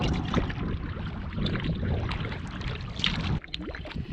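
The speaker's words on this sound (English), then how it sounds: "Still paddling on Mink." Canoe paddling on Mink Lake in Algonquin, with steady watery strokes and splashes under constant wind rumble, close to the microphone throughout.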